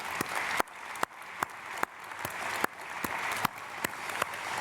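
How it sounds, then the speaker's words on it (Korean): A church congregation applauds after a choir's hymn during a Sunday service, steady dense clapping from a large crowd with a few sharp individual claps standing out. "감사드리고 박수로 축복하겠습니다"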